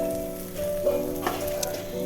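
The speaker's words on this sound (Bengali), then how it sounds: "আর এইদিকে কিন্দুরি আলু ভাজা যে বসিয়েছিলাম, সেটা প্রায় আমার হয়ে এসেছে" Kundru and potato pieces fry in a pan with a steady moderate sizzle, broken by a few brief clinks and stirring scrapes, while a faint tonal hum sounds in the background.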